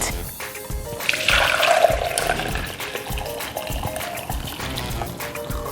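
Boiled ginger liquid draining off, a continuous close watery pour and trickle that swells in the middle and stays steady to the end, with no talking.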